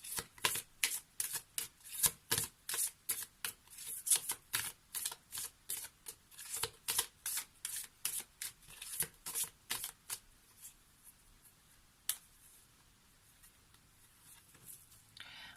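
Oracle cards being shuffled by hand, a fast, close series of crisp riffling flicks that slows and thins out, leaving a few scattered flicks near the end.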